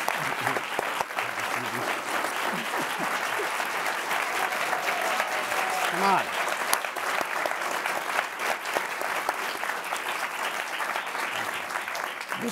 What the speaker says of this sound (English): You can tell just by the way they're applauding.